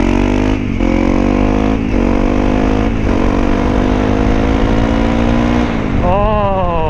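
A motorcycle rides through a park, its engine loud and close, pulling up through the gears with several rising whines broken by short shift gaps, then climbs sharply again at the end.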